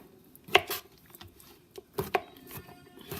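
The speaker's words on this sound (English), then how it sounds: "So now we're going to chop the stems." Knife chopping mushroom stems on a cutting board for Italian stuffed mushrooms: a few sharp, close chops, one near the start and a quick pair later, with quiet gaps between.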